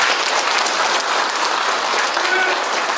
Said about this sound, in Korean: 고생하시는 우리 박경수 지휘자님 큰 박수 한번 격려해 주십시오.